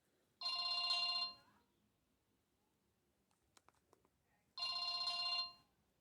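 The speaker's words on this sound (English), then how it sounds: "Crappy phone with the nicest ringtones, I guess." A Samsung E1200 mobile phone sounds a bright, buzzy electronic ring in two short bursts about four seconds apart, with faint clicks of handling between them, close and alone.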